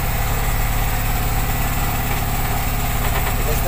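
A fishing boat's engine idles at sea at night in the rain, a close, loud and steady low rhythmic chugging that runs unbroken without any voices.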